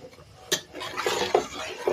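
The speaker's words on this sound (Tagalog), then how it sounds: "Just keep on stir." Stirring a gulaman jelly mixture in a pot, a few light scraping and clinking strokes of a utensil against the pot, close and fairly quiet.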